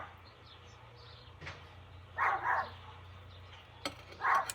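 A dog barks at a passing mail truck with a small engine: three short bursts of barking at moderate distance, set against a low steady background hum.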